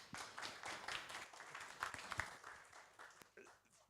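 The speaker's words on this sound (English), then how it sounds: "please give him a round of applause" Applause from a lecture audience at a clinical meeting in Bali, welcoming a guest doctor to the floor; a moderate, fairly distant patter of clapping with some voices mixed in.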